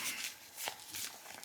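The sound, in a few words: shuffling trimmed Druid Craft tarot cards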